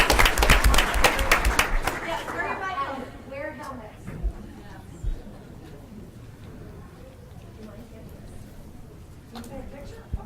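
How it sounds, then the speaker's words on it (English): At a council meeting, the audience gives a round of applause, a burst of clapping that fades after about two seconds into murmuring voices and room noise. "So another nice round of applause"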